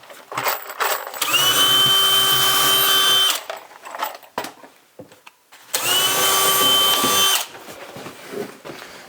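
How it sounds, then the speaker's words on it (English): A power drill drives big flat-head cabinet screws during a kitchen install at an off-grid cabin in Alaska. Two sustained, close, loud bursts of motor whine are separated by a pause filled with handling clatter. "when you start screwing these, as soon as you see this start to press in, you'll be done."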